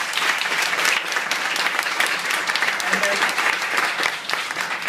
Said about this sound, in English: So give her one more round of applause.